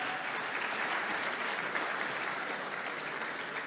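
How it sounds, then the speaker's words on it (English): Summit audience gives a steady round of applause, dense clapping throughout at moderate distance with no talk on top. "I think she deserves a better round of applause than that."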